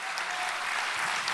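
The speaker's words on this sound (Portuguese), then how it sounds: "uma salva de palmas para o nosso Deus" A church congregation breaks into dense, steady applause that fills the room evenly from start to finish, a continuous wash of many hands clapping at once with no pauses.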